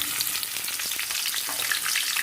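Cashews and chopped onions frying in two to three tablespoons of oil for mint rice, giving a steady, close, crackling sizzle that holds evenly throughout with no talking.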